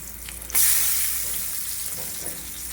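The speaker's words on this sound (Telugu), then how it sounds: "ఆయిల్ హీట్ అయ్యాక మనం ఇందులో ఆనియన్ ముక్కలు వేసి ఫ్రై చేసుకోవాలండి" Onion pieces dropped into hot oil burst into a loud, steady sizzle as they fry for a gongura egg curry, the crackling hiss holding strong without any talking.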